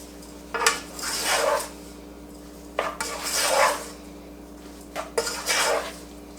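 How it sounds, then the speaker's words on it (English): Breadcrumbs being stirred into shrimp scampi stuffing in a bowl or pan, heard as three bursts of scraping and clinking utensil-on-dish stirring, close and moderately loud, separated by short pauses, with no talking. "I'm going to throw those in and give it a stir."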